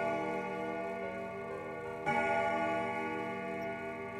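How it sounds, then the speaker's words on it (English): A grandfather clock strikes once midway, its bright ringing chime swelling over a steady, sustained resonant hum and then slowly decaying, heard alone with no voices. "So one is the grandfather clock strike"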